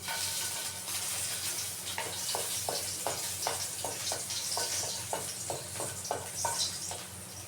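Garlic sizzles steadily in a hot pan while being cooked for monggo, with a regular rhythm of stirring scrapes and clicks over the continuous frying hiss, close and moderately loud.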